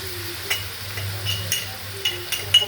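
Cumin, salt and black pepper frying in oil in a pan, a soft steady sizzle with a few light clinks of a utensil against the pan, no talking.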